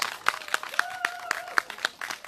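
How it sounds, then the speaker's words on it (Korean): At a Seongju candlelight rally, a crowd claps in unison with about nine evenly spaced, sharp claps, close and moderately loud. "다시 한 번 더 큰 박수 부탁드리겠습니다"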